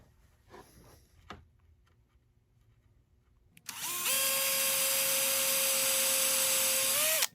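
A power drill drives a screw into the neck of a gourd ukulele. Quiet handling clicks come first, then a loud, sustained whirring run of the drill that stops abruptly at the end.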